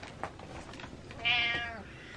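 A cat gives a single clear, close meow partway through, rising then falling, after a few faint soft sounds in an otherwise quiet room.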